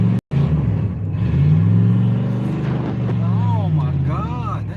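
A truck with a suspected transmission fluid leak revs hard, its engine note climbing and holding loud and close before a slow, drawn-out shift drops the pitch, with further revving rises near the end.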